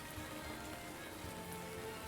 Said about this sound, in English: You all wake up to the prattling of a gentle rain